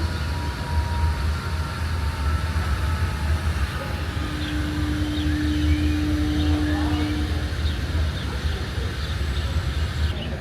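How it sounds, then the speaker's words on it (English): A train rumbles in the distance with a low, steady roar, a long horn-like tone sounding midway as it approaches a station. "Train coming in the station over there."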